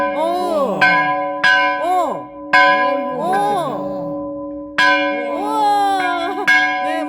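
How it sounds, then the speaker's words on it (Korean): A large church bell at a Christian history memorial in Ganghwa is struck repeatedly, each clang ringing out loud and close with long shimmering tones that overlap and decay between strikes. "종소리."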